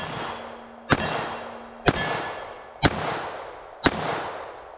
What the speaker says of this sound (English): MagTech 44 specials, kind of rapid fire.